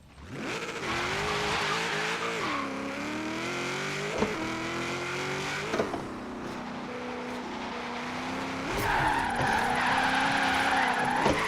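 An all-wheel-drive car drifts in Forza Horizon 3, with a loud sustained engine whine that rises and falls through the gears and tires squealing and skidding throughout.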